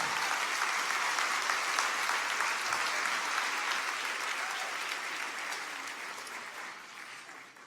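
Applause from an audience at a We Are EMILY 2022 event, a dense, sustained clapping that fills the room and gradually tapers toward the end, with no speech over it.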